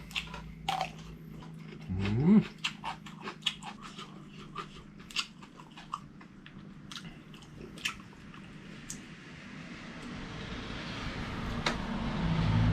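Spicy Thai crab stick salad, made with a large batch of imitation crab, is eaten up close, giving steady wet chewing and biting sounds with small crunchy and squishy bits and no talk.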